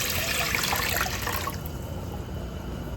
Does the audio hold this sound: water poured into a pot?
yes